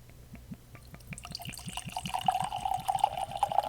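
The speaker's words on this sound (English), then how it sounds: "my steady hands do a pour" Four Roses Small Batch Select bourbon is poured from a corked bottle into a glass, a rapid rhythmic glugging that rises in pitch and loudness as the glass fills.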